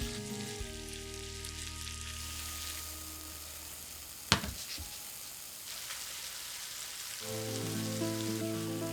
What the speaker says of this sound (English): Let a lot of that liquid cook out of that kimchi so our fried rice isn't too wet in the end